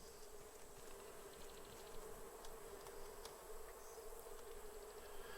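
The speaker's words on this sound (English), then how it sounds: "I hear bees." Bees buzzing on an island in the survival game Raft, a faint, steady insect drone with a thin whine running continuously, no voices over it.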